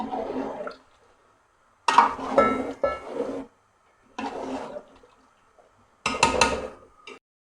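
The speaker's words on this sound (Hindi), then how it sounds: "तकरीबन 2 लीटर हमने पानी डाल दिया।" About two liters of water poured into a cooking pot while making chicken nihari, heard as several separate splashing, gushing bursts with quiet pauses between them.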